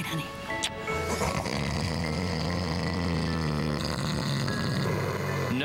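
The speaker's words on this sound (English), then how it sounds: "Nothing drives couples apart like snoring." A person snoring in bed gives a loud, rough, rumbling snore close by that carries on for several seconds, set in a Breathe Right advert.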